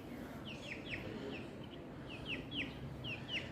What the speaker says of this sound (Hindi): ये थे नवाजिश भाई के मुर्गियों के बच्चे जो आपके साथ शेयर कर रहे थे।